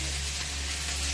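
Fried potato and eggplant go into a hot oiled pan, and a steady close hiss of frying sizzles throughout this short moment.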